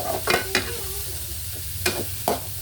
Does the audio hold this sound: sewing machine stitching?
no